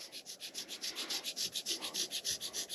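Rhythmic back-and-forth scraping of sandpaper on a Kenne Bell supercharger, sanding through layers of paint toward bare metal, each stroke close and faint in a steady even cadence.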